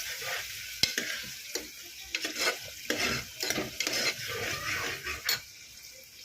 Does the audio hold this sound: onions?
yes